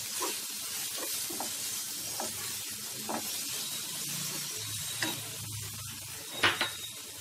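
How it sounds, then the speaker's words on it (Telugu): Palak and egg fry in a pan with chilli powder, giving a quiet, steady sizzle with occasional stirring scrapes and clinks, close by and without talk. "తీసుకొని మళ్ళీ ఒకసారి ఫ్రై చేసుకోవాలి।"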